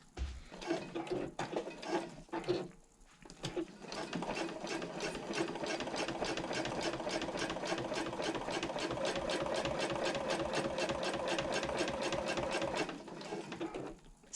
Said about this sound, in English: I'm going to pivot at that line and sew across the connector and then down the other side